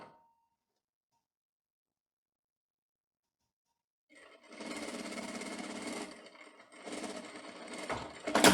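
Sewing machine running in two bursts with a short pause, stitching the pocket onto the side seam of a women's tailored trousers with a 1 cm margin, steady mechanical whirr close by, no talk.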